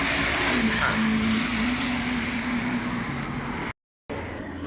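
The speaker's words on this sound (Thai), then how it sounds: "เสียงรถก็ดังมากนะครับ" Loud, continuous roar of engine and road noise, like heavy passing traffic, steady throughout with a brief drop-out near the end.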